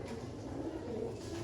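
Soft, low cooing from a black-faced Sialkoti pigeon, a short continuous stretch over steady background noise, with no voices.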